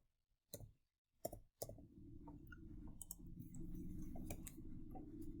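A few sharp mouse clicks on a computer come close and separate, followed by a low steady hum with faint soft taps.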